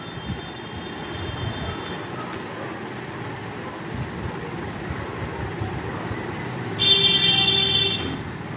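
A vehicle horn honks once, a loud sustained blare of about a second heard over steady background traffic rumble.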